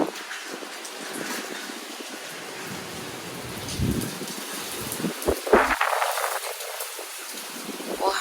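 Heavy typhoon rain pours onto a balcony amid strong wind, a dense steady hiss with a few louder gusty swells and splashes, close and continuous without speech.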